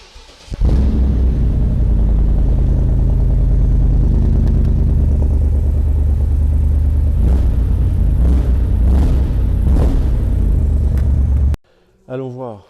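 A 2016 Morgan Aero 8 Roadster engine fires up by start button and settles into a deep, loud rumbling idle with a few revs, then cuts off abruptly before a voice speaks briefly.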